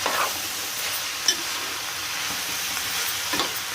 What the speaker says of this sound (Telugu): వేసేసిన తర్వాత మొత్తం ఒకసారి ఇలా పైన కింద అన్నీ ఇలా కలిపి